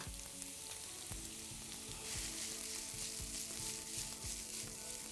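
Onions and peppers sizzling in plenty of hot olive oil in a pan heated in a wood-fired oven, a continuous close crackling fry with occasional soft stirring knocks and scrapes, no voices.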